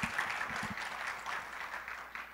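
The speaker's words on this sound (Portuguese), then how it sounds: "Podemos aplaudir o Senhor por isso?" A church congregation applauds together, a ragged wave of clapping that swells and dips over a couple of seconds at moderate loudness.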